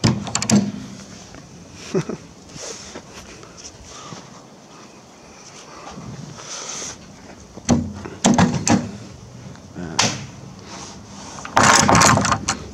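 A trailer storage box door is unlocked and opened, with several sharp metallic clicks and clunks standing out against a quiet background, followed by a louder rattle near the end as someone laughs.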